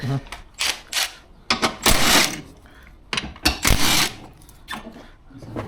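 Bursts of ratcheting from a 10 mm socket wrench removing parts on a 2013 Honda Fit during an ignition coil change, loud, close, intermittent clicking runs separated by pauses.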